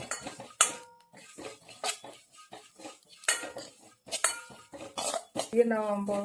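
Dry spice-powder ingredients roasting in a pan for an idli and dosa podi, with a spoon scraping and clinking against the metal in repeated close, busy strokes, a short hum of talk near the end.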